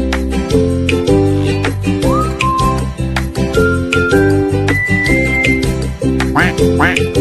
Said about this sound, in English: Duck. Quack, quack.